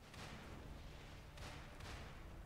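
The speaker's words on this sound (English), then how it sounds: "There's cannons." Cannons fire in the video game Lies of P: a steady roar of broadband rumble with two heavier blasts standing out midway, muffled and fairly faint overall, without speech.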